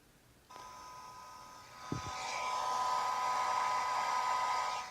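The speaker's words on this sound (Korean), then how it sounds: "그래서 다시 그 드라이기 형태의 열풍기로 다시 한번 해봤습니다." A hair-dryer-style heat gun switches on and runs with a steady whirring blow, building slightly louder as it keeps going, with a brief knock partway through.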